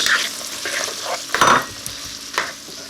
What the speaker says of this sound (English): So now in come the washed borlotti beans. Stir them into the mix.